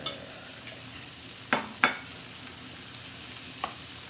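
Mirepoix and tomato products sizzle quietly in a pan for a veal ossobuco, with a few sharp scrapes and knocks of stirring against the pan over a steady frying hiss; no talking.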